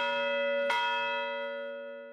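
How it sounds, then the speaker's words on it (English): The USS Arizona's ship's bell is struck once, a sharp clang followed by a long, clear ringing tone that slowly fades, heard alone and close. "Lauren Bruner and Claire Hetrick, another USS Arizona survivor, rang the bell together."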